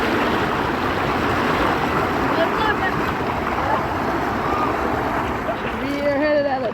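Water rushes and splashes continuously on a river raft ride at Sesame Place's Big Bird Rambling River, a steady broad wash close by, with a voice rising briefly near the end.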